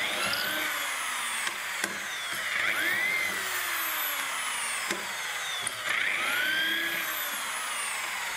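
A power drill bores holes through a template into a furniture panel for a modern chest of drawers, a steady whirring drone with brief pitch sweeps and short breaks, close and alone.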